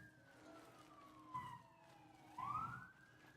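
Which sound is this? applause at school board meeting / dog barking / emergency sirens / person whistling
emergency sirens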